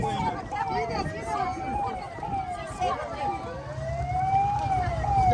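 Wailing sirens from an ambulance and police car rise and fall over street traffic noise, fairly close, with voices in the background, at the scene of a road collision between a bus and a combine harvester.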